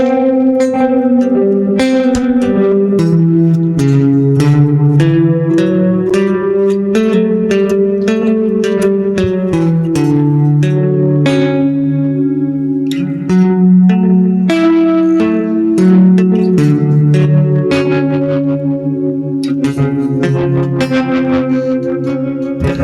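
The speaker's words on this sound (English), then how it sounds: "That big cavernous boy reverb." Electric guitar played through a big, cavernous reverb effect, loud sustained chords and notes ringing out with long washy tails over about twenty seconds, no talking.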